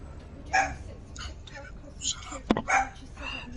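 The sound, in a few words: dog barking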